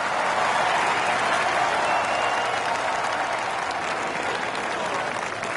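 Crowd applause for a golfer in a PS4 golf game, a steady, dense wash of clapping that holds evenly throughout, moderately loud with no other sounds standing out.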